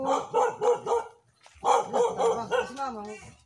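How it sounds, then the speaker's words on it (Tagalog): A dog barks repeatedly in short bursts, loud and nearby, with a pause before another run of barks and yelps. "Aso po."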